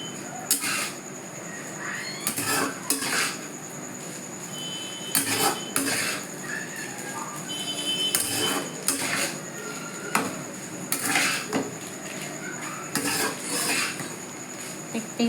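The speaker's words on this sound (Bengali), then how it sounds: "দিয়ে এবারে পাস্তাটাকে ভালো করে নাড়িয়ে ছড়িয়ে" Pasta being stirred and mixed with sauce in a pan, repeated metal utensil scrapes and clinks against the pan at an uneven rhythm, with a faint sizzle underneath.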